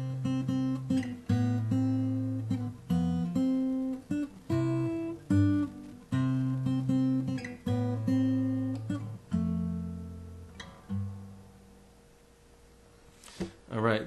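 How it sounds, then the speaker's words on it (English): Fingerstyle acoustic guitar playing a bass note and a melody line together, a clear, close arrangement of plucked notes that rings out and fades toward the end. "But the next step is I like to play the bass note and the melody line simultaneously."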